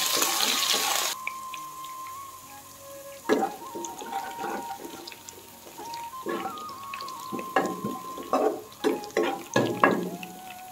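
Ginger garlic paste frying in hot oil with cumin seeds on a low gas flame, a steady soft sizzle broken by repeated stirring scrapes and clinks, growing busier toward the end.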